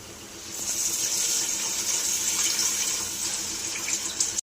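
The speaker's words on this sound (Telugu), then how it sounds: "ఇందులోకి నేను ఇప్పుడు కొబ్బరి పాలు వేస్తున్నాను" Thick homemade coconut milk is poured into a pan for coconut rice, a steady soft splashing gush lasting about four seconds before it stops abruptly.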